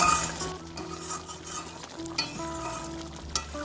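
A spoon stirs a potol curry with slit green chillies and garam masala in a pan, scraping and clinking steadily over a soft sizzle, close and fairly loud with a couple of sharper knocks.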